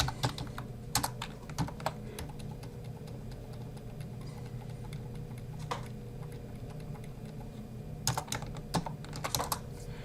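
Typing on a computer keyboard sounds as a steady stream of light key clicks, with a few sharper, louder bursts of keystrokes near the start and toward the end.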